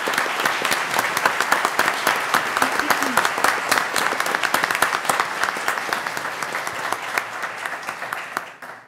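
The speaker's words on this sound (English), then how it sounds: "I think we should all give them a round of applause." Audience applause for young mariachi performers at a school board meeting, a dense steady wash of clapping that carries on for about nine seconds before tailing off at the end.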